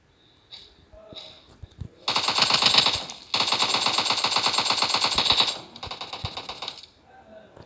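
M4 rifle gunfire in a mobile battle royale shooter, rapid automatic bursts of crisp rattling shots, a couple short and one long sustained volley, loud and close with a brief pause between.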